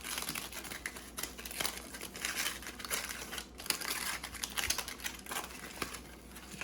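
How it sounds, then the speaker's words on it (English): Aluminum foil unwrapped from a frozen McDonald's Quarter Pounder with Cheese, giving a steady run of close, loud crinkling and crumpling with sharp crackles throughout, no talking. "now we have another layer of aluminum foil."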